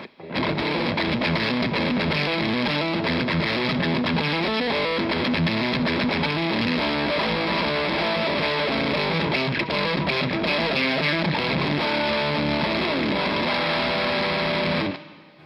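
Electric guitar through a high-gain overdrive pedal plays continuously with a thick, saturated, heavily distorted tone and steady hiss underneath, loud and close, then cuts off.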